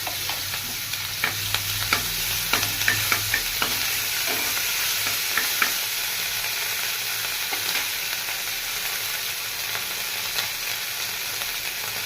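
Spices sizzle in a pan on a gas flame with slit green chillies and ginger paste, giving a steady hissing fry throughout and scattered clicks from stirring.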